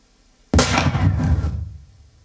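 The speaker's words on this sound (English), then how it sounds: "Measurement 2, high level gunshot." A single high-level test gunshot fired during a forensic acoustic measurement, one sudden loud blast with a sharp onset that rings and decays over about a second in an otherwise quiet space.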